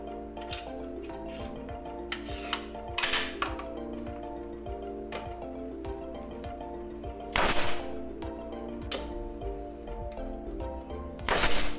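An ST64 pneumatic concrete nail gun fires nails into hard, old concrete, giving several sharp, irregularly spaced cracks and snaps over a steady tonal hum.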